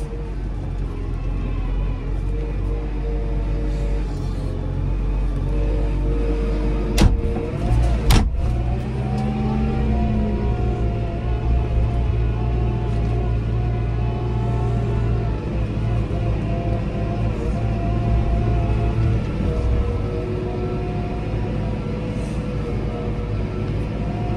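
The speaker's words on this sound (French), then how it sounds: "Hop, inverseur à l'avant. J'accélère. On voit que le télescopique part tout de suite." A JCB 538.60 Agrixtra telehandler pulls away under throttle, its steady deep engine drone holding close and loud with a brief clunk as it moves off.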